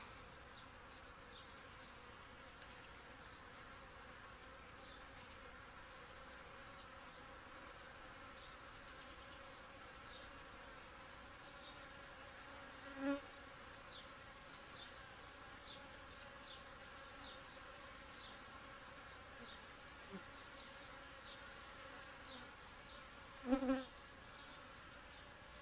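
Honey bees buzz around an open hive box, a faint, continuous, steady hum with a couple of brief soft knocks.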